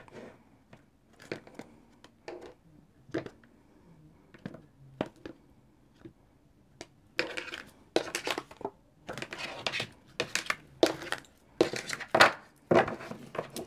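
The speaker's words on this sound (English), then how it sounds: "They're all good and shuffled up" Tarot cards are shuffled in scattered bursts, soft riffles and flicks at first, then denser crisp riffling of the deck near the end, close and fairly quiet.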